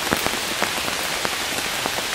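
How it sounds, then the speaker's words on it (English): Steady rain patters on a camping tarp in woodland, a continuous close hiss dotted with distinct drops that tap at irregular intervals, with no voices. "The rain's just beginning to ease off a little bit."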